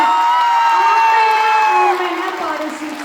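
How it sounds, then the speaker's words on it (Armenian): A crowd applauds and cheers loudly for dance choreographers at a show. A bright, sustained tone rings over the clapping for a moment, and then the ovation gradually tapers off. "ուզում եմ բոլորս բարձր ծափարենք այս պարուսույցներին"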